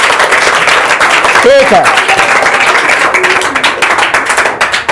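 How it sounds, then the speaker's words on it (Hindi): Students in a classroom break into brisk clapping, close and fairly loud, as a teacher's voice speaks briefly over it and the applause carries on steadily to the end. "अच्छा तालियां जोरदार इनके लिए।"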